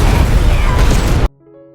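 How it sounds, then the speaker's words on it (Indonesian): A grenade explodes inside a room in a film, a loud, broad roaring blast that sustains for over a second and then cuts abruptly to a quiet, low musical tail. "setelah ledakan besar,"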